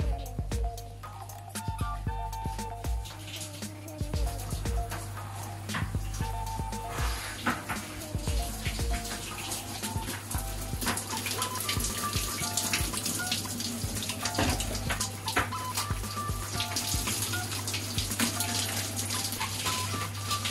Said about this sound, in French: ça fait une demi-heure qu'il est sous la douche.